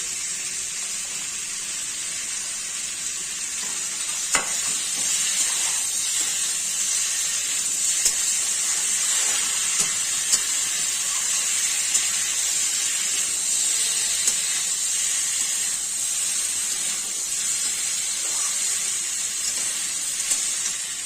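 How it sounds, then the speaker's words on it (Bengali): Fried potatoes tipped into a pan of simmering pumpkin, bottle gourd and chickpea-lentil fritter curry (chhokka) give a steady, close hiss and sizzle of steam that holds for about twenty seconds, with a few faint clinks and no talk. "এবার আমি আলুগুলো দিয়ে দিচ্ছি, ভাজা আলুগুলো"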